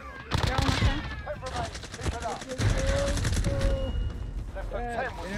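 Machine-gun and rifle fire in the video game Call of Duty, rapid bursts of shots crackling close by with intermittent pauses, while people talk and shout over the shooting.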